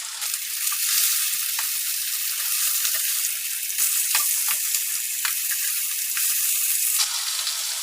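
Fish frying in a kadai, a dense steady sizzle with faint crackles and occasional sharp pops, close and continuous without any talk.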